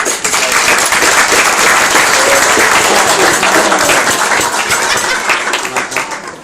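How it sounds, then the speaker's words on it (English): Enthusiastic applause from a gathered crowd at an event, dense and steady for about six seconds, close and loud with many hands clapping at once before tapering slightly at the end. "So another round of applause."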